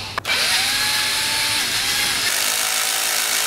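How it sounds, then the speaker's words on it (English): A power drill whirs loudly and continuously at close range near an electric mountain bike, its motor pitch steady before dipping slightly and settling. "Sorry about that drill."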